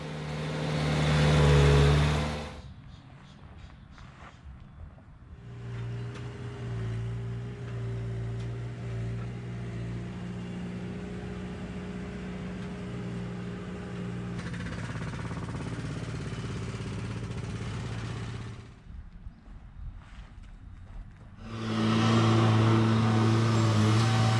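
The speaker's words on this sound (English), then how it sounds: "As he works away, the wheels of the Bobcat will continue to compress and force dirt into any empty spaces below." A Bobcat loader works at a swimming pool demolition site, driving over and compacting dirt, its diesel engine droning steadily with loud surges as it revs up at the start and end, heard nearby with no talking.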